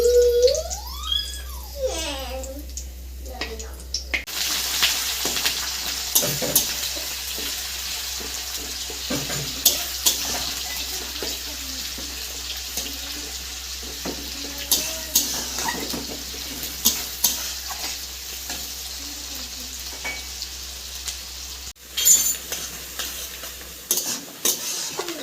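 Onions fry in hot oil with bay leaves and whole garam masala for a chicken dish, sizzling constantly while a spatula scrapes and stirs the pan in repeated close strokes.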